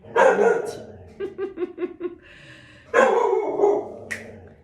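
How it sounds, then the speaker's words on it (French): A dog barks in a quick run of about five sharp yaps in the middle of the clip, between stretches of close, clear speech from a woman before and after. "aboiements de mon chien"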